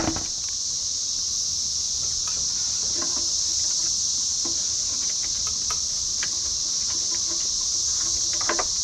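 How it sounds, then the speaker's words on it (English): A constant high-pitched buzzing drone of cicadas fills the background, steady and loud, with scattered faint clicks and taps nearby. "I want to apologize again about all these screaming cicadas in the air out here."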